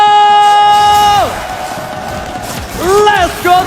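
An esports arena crowd cheers during a Mobile Legends semi-final between RRQ and Team Liquid, with shouting and cheering under loud excited voices.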